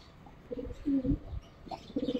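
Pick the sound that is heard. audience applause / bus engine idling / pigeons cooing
pigeons cooing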